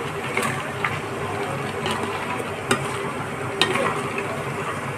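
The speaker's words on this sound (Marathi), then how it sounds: "हे सुद्धा आपल्याला चांगलं तेलावर परतून घ्यायचं आहे" Vegetables and peas for bhogi bhaji khengat are stirred as they fry in oil, producing a continuous moderate sizzle broken by a few sharp scrapes and clinks of the spoon.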